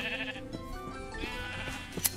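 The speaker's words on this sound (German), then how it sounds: "Oh, ein Kakaoschaf." Sheep bleating in Minecraft, several short bleats over layered game music and effects, moderately loud throughout.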